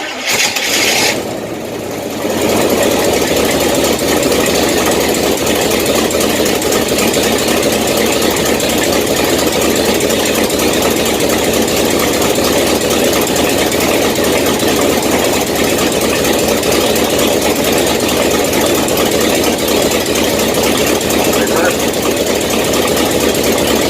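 A 1967 Chevelle's engine, its car rebuilt after being wrecked, cranks briefly and catches, then settles into a steady, loud idle that runs close and continuous for the rest of the stretch, with a voice talking faintly over it.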